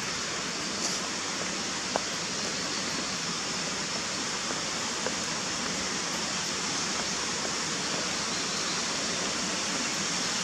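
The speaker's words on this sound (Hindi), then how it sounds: "पानी की आवाज, शांति," A waterfall near Mawlynnong village in India pours with a dense, steady roar of rushing water, even and unbroken throughout, heard alone without voices.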